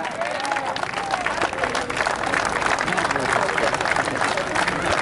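A hall of fame crowd applauds the inductees, the 1981 boys basketball state champion Red Raiders, with dense, loud, sustained clapping and crowd noise filling the hall throughout.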